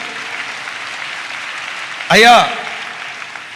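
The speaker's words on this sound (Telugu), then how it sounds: "2 చేతులెత్తి చప్పట్లు కొడుతూ స్తోత్రాలు చెప్దాం" A church congregation claps hands in praise, a steady, dense patter of many hands filling the room, briefly interrupted by a short spoken exclamation.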